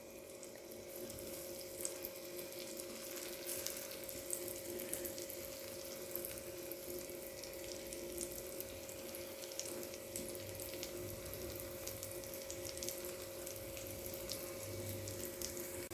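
Raw banana slices fry in ghee on a pan with a steady, soft sizzle and hiss that stays even throughout, fairly quiet, with no talking.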